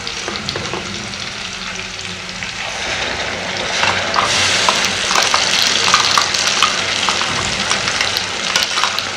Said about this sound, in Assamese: এতিয়া মই ইয়াতে টমেটো পিউৰিখিনিও এড কৰি দিম।